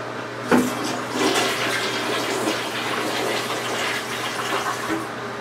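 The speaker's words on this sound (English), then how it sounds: "And then from there, you're supposed to flush it to see if it worked." Toilet flushing after an attempt to clear a clogged, backed-up bowl: a sharp click of the handle, then a steady rushing gush of water that keeps roaring at close range for several seconds, with no talk.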